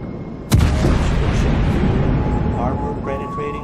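A warship's main guns fire in the naval combat game World of Warships, aboard the cruiser Cleveland: a single loud, close boom with a long rumbling tail and faint game tones fading out behind it.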